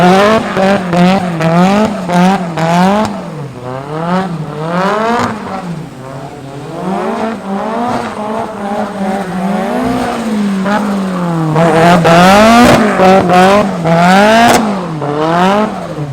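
A turbocharged JDM drift car with about 210 kW at the wheels drifts across a wet skid pan at a track day, its engine rising and falling in repeated loud revving sweeps with no voices.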